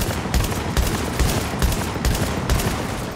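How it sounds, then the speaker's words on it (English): Rapid bursts of automatic gunfire in The Division video game, loud and close, with repeated clustered shots in a steady stuttering rhythm. "Start shooting at him, I'm flanking."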